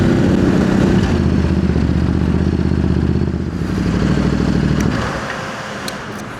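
A new 2025 Ducati Desert X Rally motorcycle being ridden, its engine a loud, close, throbbing rumble held steady, then easing off and fading after a few seconds.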